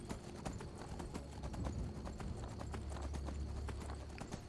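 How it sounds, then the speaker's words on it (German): Steady clip-clop of horse hooves at a trotting rhythm in the video game Skyrim Special Edition, close and moderately loud, with a low rumble underneath. "Du musst nur auf deinem Pferd reiten."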